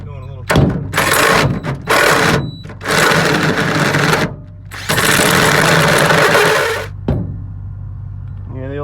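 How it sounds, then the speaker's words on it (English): A drill fitted with a 2-inch hole saw cuts through the steel of a 2wd Ford donor car body in loud grinding bursts, stopping and restarting several times at close range. "I already kind of started this with a 2-inch hole saw."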